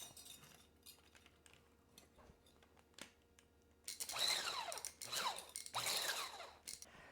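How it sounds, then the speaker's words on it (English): Sugar and butter being whisked together in a bowl for a Finnish quark pie, faint scattered clinks at first, then several loud, rapid bursts of whisk strokes against the bowl close by. "Now we'll use the whisk again and whisk together the sugar and the butter."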